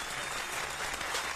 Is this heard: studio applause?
yes